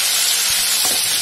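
Small onions sizzling as they fry in a pan of oil for a garlic mutton curry, a steady broadband hiss with a couple of soft stirring knocks, close and alone without talk.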